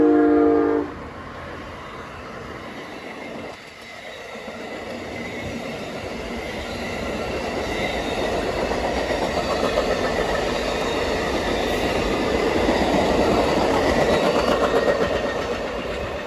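Amtrak 92, a northbound passenger train led by two Charger locomotives, rolls past with a steady, building rumble of wheels and engines that swells toward the end, with a short horn at the start.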